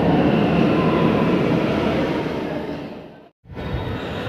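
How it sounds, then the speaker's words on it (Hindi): Loud rumbling roar of a train moving through a New Delhi metro station, fading gradually, then a brief abrupt silence before the rumble resumes. "फ्रेंड्स हम अभी पहुंच चुके हैं मेट्रो स्टेशन"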